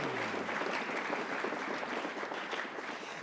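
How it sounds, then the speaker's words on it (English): A school band concert audience applauds the music boosters with steady, dense clapping from a large crowd, even and sustained throughout, slightly distant and fading a little at the end. "So if we could give a round of"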